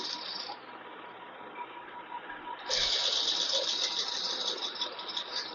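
Sewing machine running steadily while stitching the neck of a kurti, a close, continuous mechanical whir and rattle that grows louder and faster about halfway through.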